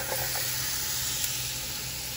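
Onion sizzling steadily in a hot pan of olive oil and garlic, a close, continuous bright frying hiss that holds at an even level throughout with no voices.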